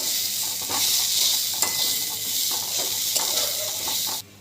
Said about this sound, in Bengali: ভালো মতন এটাকে ভাজতে হবে